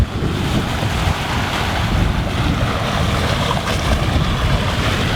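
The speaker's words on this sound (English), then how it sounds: "It's because of the waves." Ocean waves wash around a sailing boat off San Blas, a loud, constant roar of surf mixed with heavy wind buffeting the microphone, with no voices.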